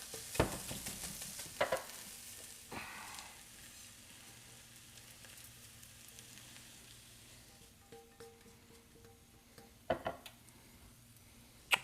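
Egg whites fry quietly in a pan, a low continuous sizzle broken by several sharp clicks and pops from utensils or spattering, close and fairly faint with no voices.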